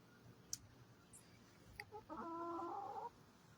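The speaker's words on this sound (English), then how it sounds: "get pissed off at these chickens for attacking my shoes" Chickens cluck nearby, faint scattered clicks and scuffs first, then one clear drawn-out squawking cluck lasting about a second against quiet outdoor background.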